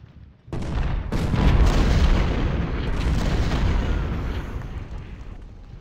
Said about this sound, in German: Na, die schießen sich ein auf uns.